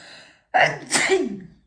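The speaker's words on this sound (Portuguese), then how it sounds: "eu vou espirrar" A single sharp sneeze with a quick inhale before it, loud and close, trailing off into a short breathy sound.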